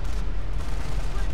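Explosive battlefield gunfire and booms from the World War II strategy game Company of Heroes, a steady dense rumble of shots and blasts under a voice.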